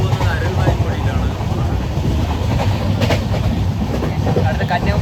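Riding aboard a passenger train in the Kanyakumari region, with a steady rumble of rolling cars, occasional clickety-clack and wind noise, while voices murmur faintly in the background.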